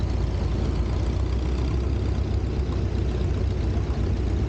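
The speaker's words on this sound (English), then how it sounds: "Tom Stipetich driving his 1952 Ford 8N." A 1952 Ford 8N tractor engine runs steadily at a show, a loud, continuous low rumble with no pauses and no voices.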